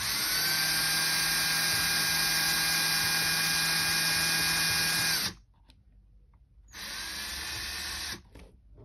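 A power drill spinning to twist wire for bar links, a loud steady high whine for about five seconds, a brief pause, then a shorter second burst of whirring.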